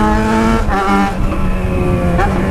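A motorcycle engine revs hard outside a college, its strong harmonic whine rising and falling through a couple of throttle blips, loud and close with no talk.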